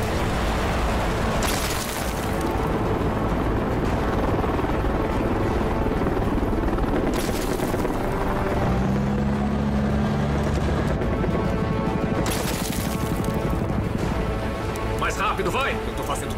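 Helicopters fly overhead during a dubbed war action film, a loud, continuous rotor roar that fills the whole stretch, with voices and other battle noise layered over it.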